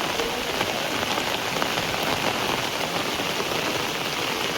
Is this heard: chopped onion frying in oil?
no